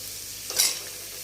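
Food sizzles quietly in a pan during okra cooking, with a single short scrape of stirring in the middle.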